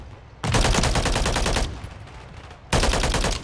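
Rapid automatic gunfire bursts in Modern Warfare III multiplayer, one long burst then a pause and a second burst, loud and close.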